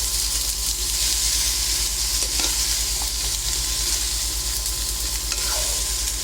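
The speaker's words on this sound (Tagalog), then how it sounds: "Ayan, gisa lang po natin ng maigi hanggang sa mag-combine lahat ng ingredients." Squash and string beans sautéing in a pan, a steady close sizzle and hiss with occasional soft scrapes and clinks of a spoon stirring, continuous throughout with no voice.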